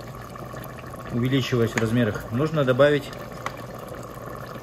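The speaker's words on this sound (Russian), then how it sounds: "добавить поверх риса кипяченой воды" Boiled water is poured over rice for chicken plov in a multicooker, a steady liquid wash running under a person speaking throughout.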